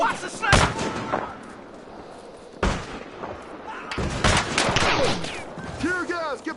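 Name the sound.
sniper gunfire in video game Battlefield Hardline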